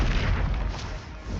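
A loud, roaring blast from the Bombarda spell in Hogwarts Legacy fills the moment with a dense, low rumble that holds steady throughout.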